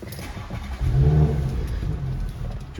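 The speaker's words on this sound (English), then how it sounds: "Just want to start the vehicle up" An Audi S4 engine cranks and catches about a second in, then settles into a steady low idle heard from close by, with no talking.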